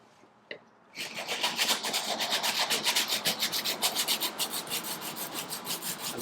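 Hand sanding of scratches on a painted Honda Accord panel: after a brief knock, a rapid back-and-forth rasping rubs on in a steady rhythm, close and fairly loud, with no voices.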